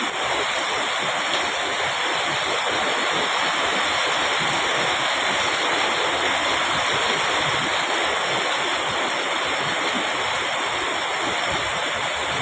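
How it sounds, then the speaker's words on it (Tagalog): Floodwater rushing through a residential street during heavy rain, a loud, continuous roaring wash of water with wind buffeting the microphone and no pauses. "Buhos ng tubig."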